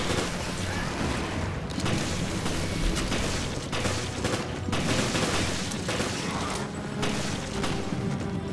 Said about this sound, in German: Gut, schießt du da, ich schieß hier.